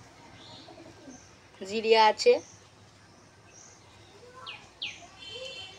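Pigeons in a home loft, with a short burst of cooing calls rising loud near the middle against a quiet room hum, then soft, faint chirps and rustles toward the end; someone speaks briefly.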